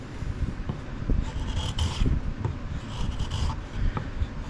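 A hand tool shaves and scrapes at a carved wooden wand, making a continuous close rasping and rubbing with small irregular strokes and scratchy bursts.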